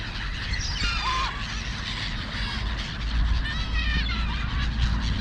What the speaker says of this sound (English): Listen to those gulls.